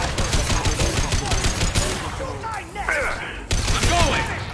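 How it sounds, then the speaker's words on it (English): High-impact gunshots in Mass Effect 2, a rapid string of sharp repeated shots crackling through the first half, then a brief lull with voices before another crisp shot cuts in and firing resumes. "Firing a high impact shot."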